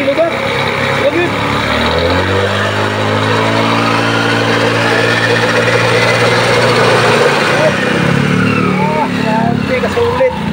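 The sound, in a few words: Easyride 150N scooter engine revving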